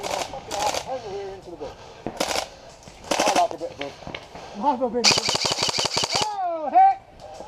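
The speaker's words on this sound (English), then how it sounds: "He was firing at you, luckily, not me." Airsoft guns firing in woodland close-quarters play, with single shots and then a fast rattling burst of rapid fire, while players talk and shout nearby.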